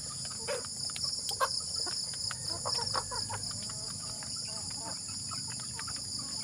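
Native chickens, plump hens and a large rooster, cluck now and then among a flock, with steady insect buzzing above and a soft wash of yard noise underneath.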